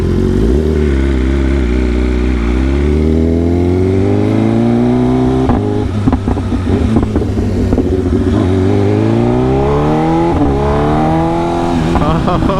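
A 2025 BMW S1000RR sport motorcycle's engine and exhaust roar close-up while riding, revs rising and falling in long sweeps with a sharp blip midway; a rider speaks briefly over it.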